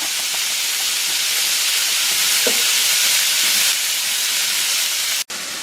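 Pepper flakes fry and roast in a hot pan, a steady loud sizzling hiss throughout, with faint stirring scrapes and a short clack near the end.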